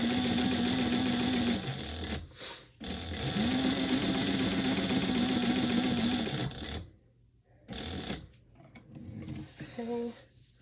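A sewing machine basting a seam on a sling bag runs in two long, steady whirring bursts up close, then stops, followed by quieter handling and shuffling of fabric.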